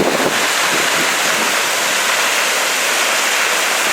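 Winter waterfall at South Mountains State Park, its cliffs thick with ice and snow, pours out a loud, steady broadband roar of falling water that fills the whole stretch without a break, with no voices.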